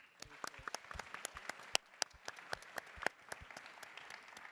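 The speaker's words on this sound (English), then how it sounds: "I think that deserves another round of applause." A modest round of applause at a panel discussion, with sparse, distinct claps close by over a thin wash of clapping from the rest of the room, fairly quiet overall.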